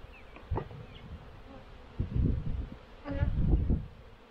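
Honey bees buzz loudly in bursts as frames are shaken down into the bottom hive box, three surging swells of agitated droning over a quieter hum.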